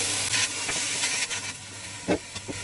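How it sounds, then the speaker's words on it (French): Onions and rinsed sauerkraut being stirred in a pan for choucroute, a steady sizzling hiss with a few scraping knocks of the spoon, close and alone without talk. "On mélange tout bien."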